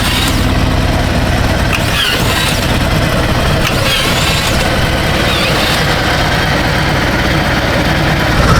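A Harley-Davidson Road Glide 3 motorcycle engine runs steadily in reverse with a loud, constant low rumble and no voices.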